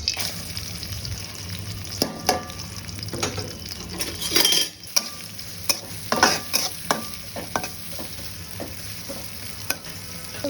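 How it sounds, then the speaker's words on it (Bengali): Chopped green chili, onion and garlic hit hot oil and fry with a steady crackling sizzle, broken by scraping stirs and a few metallic clinks of a spatula against the pan. "এখন এটা দিয়ে দেব তেলের ওপর।"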